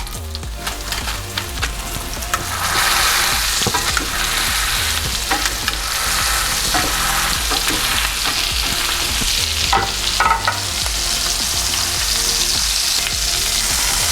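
A deer burger patty sizzles loudly on a skillet on top of cooking onions, a dense, steady hiss and crackle that swells just after the patty lands and keeps going without letup, close up.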